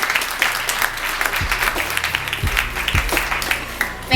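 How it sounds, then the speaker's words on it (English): An audience at a live motivational speaking event gives a round of applause, a full dense clapping wash heard close and steady throughout, with rhythmic low thumps from music underneath. "All right, give yourselves a round of applause."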